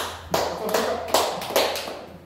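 A classroom group claps together in a steady burst of applause, loud and close, with a few sharper accents through it.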